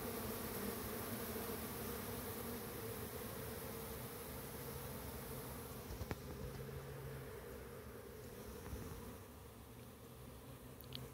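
Steady buzzing of many honeybees fills the air without pause, a dense even drone that eases slightly in the second half, with a couple of faint clicks and no voices.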